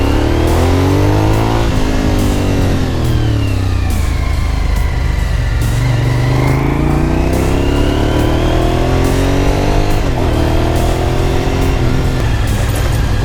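A Suzuki SV1000 motorcycle engine heard while riding, loud and close, rising and falling through repeated revs and gear changes, slightly chuggy at low RPM, steady throughout with no talk.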